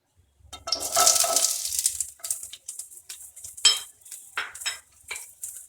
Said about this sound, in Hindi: ऑयल गरम होने के बाद मैं दूंगी